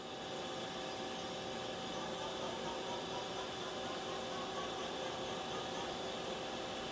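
Sub spindle of a 2007 Mori Seiki NT 4300DCG multi-axis CNC turning center spinning at 500 RPM, a steady, quiet, even whir with faint tonal hum and no speech.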